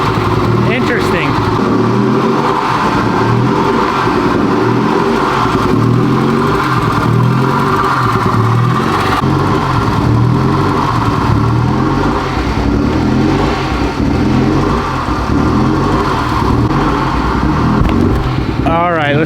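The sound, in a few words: rebuilt Civic Type R engine running, sounding wrong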